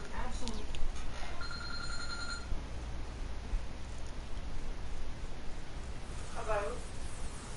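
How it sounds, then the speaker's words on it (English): A phone rings in short repeated electronic tones, a few bursts early on and another near the end, faint under steady background noise. "Why will you get a phone call?"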